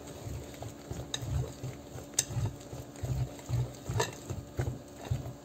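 Thick batter for a pineapple skillet cake is stirred by hand in a bowl, a soft rhythmic slapping and squelching repeating roughly every half second, close and steady.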